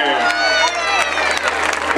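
Audience applause and cheering for the newly crowned winner of the Miss La Riviera 2012 semifinal beauty pageant in Riva Ligure, a steady dense clatter of clapping with crowd noise, held at an even level throughout.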